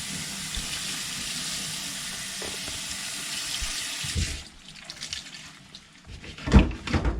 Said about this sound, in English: I'm going to rinse off this bottom felt pad first.